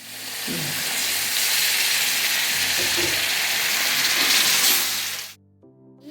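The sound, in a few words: vinegar poured into garlic pickle in hot pan, sizzling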